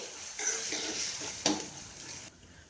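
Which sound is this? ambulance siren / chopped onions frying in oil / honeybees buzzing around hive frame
chopped onions frying in oil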